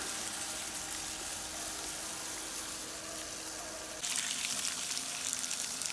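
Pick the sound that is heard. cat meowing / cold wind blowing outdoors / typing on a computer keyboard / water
water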